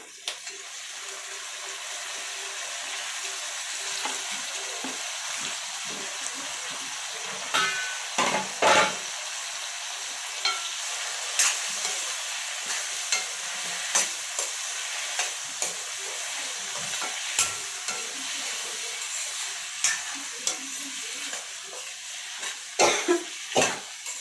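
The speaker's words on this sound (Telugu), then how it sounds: "నెక్స్ట్ మనం తీసుకున్నటువంటి టమాటాలను వేసేసుకోవాలి దీనిలో" Tomatoes frying and being stirred in a pan for tomato egg curry: a soft, steady sizzle runs throughout, punctuated by intermittent scrapes and clinks of the spoon against the pan.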